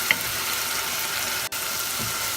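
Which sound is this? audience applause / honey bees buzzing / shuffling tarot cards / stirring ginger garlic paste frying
stirring ginger garlic paste frying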